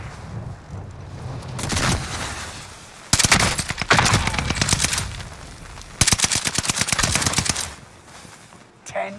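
Rapid automatic gunfire from a Warzone battle royale match, several loud bursts of fast repeated shots with short pauses between them, close and sharp, with a faint voice briefly underneath.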